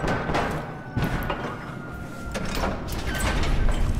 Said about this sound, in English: Open the door, Sergeant.